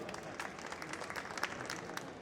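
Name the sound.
audience applause at felicitation ceremony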